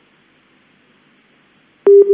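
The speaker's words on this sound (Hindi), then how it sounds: "फोन काट दिया गया।" A telephone busy tone sounds after a disconnected call: a near silent line, then loud, steady beeps in short repeated pulses at the very end.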